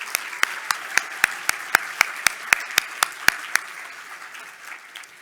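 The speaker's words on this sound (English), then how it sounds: "one more round of applause for the team" Applause for the event team at a business excellence awards ceremony, heard as a close, single pair of hands clapping in a steady, even rhythm about fifteen times before stopping, with a faint room murmur underneath.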